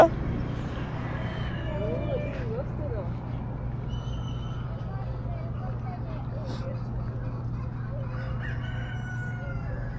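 A rooster crows loudly nearby while hens cluck around it on a ranch in Laveen, over a steady low mechanical hum.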